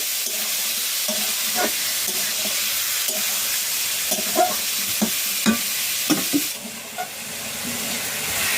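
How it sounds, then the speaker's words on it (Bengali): Chicken, about a kilogram, frying in hot oil in a pot, a steady loud sizzle with intermittent scraping stirs and clinks as the pieces are turned, no voices. "এই যে তেলটা গরম হয়ে গেছে। এবার চিকেনটাকে আমি কষিয়ে নেব ভালোভাবে, কষিয়ে নেব।"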